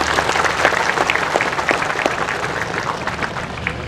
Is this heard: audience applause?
yes